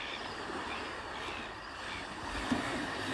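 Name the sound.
small ocean waves crashing on shore at night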